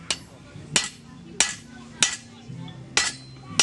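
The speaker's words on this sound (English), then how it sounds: "And what I do is I rotate the steel as I cut to make a more centered cut, and it comes right off." A blacksmith at a renaissance faire cuts steel on a hardy with a series of sharp, ringing hammer blows, about six strikes at a steady, unhurried rhythm, close and clear.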